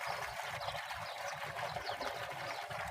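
Irrigation water flows steadily through a vegetable garden channel past mint and onion beds, a continuous close splashing, gurgling stream with no pauses.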